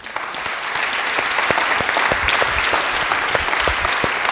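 Studio audience at a televised talk show applauds a guest's entrance with loud, sustained clapping from many hands that swells and holds steady throughout, with individual sharp claps standing out.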